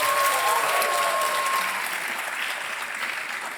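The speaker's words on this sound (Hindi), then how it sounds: "तालियां बजती रहें इनके लिए." Studio audience applause on a televised Hindi quiz show, a steady, dense wash of many hands clapping that fades slightly toward the end, with a faint tonal cue in the background.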